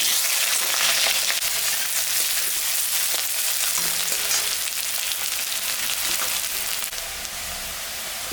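Onion sizzles steadily in hot oil with dry chili, bay leaf and cardamom, a loud, continuous crackling fry with occasional stirring scrapes and no voices.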